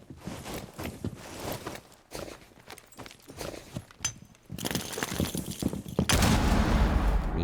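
A first-person shooter round, Counter-Strike style, with scattered gunshots and bursts among footsteps and shuffling, building to a loud sustained volley at the end.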